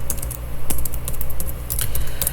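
Quick, close keystrokes on a computer keyboard while entering a CSS selector, a steady run of crisp clicks with short gaps.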